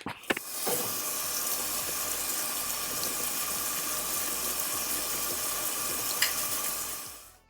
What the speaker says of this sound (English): I washed them off as well just to get some of the salt off and some of the liquid out, and just like cleaning the beans